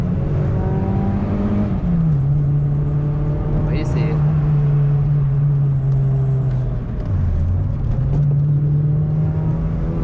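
A Peugeot 106 XSi Phase 1 hatchback engine drones steadily at a low pitch, dipping and rising slightly as the throttle changes, while someone talks over it in French.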